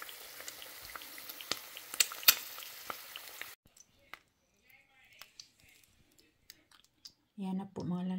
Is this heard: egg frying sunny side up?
yes